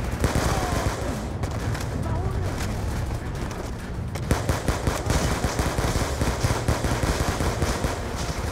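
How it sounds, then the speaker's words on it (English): Heavy minigun fire in the video game Call of Duty Black Ops 2: a dense, continuous, rapid rattle of shots, loud and sustained throughout, with explosive rumble and battle noise underneath. "We're receiving heavy fire from its minigun."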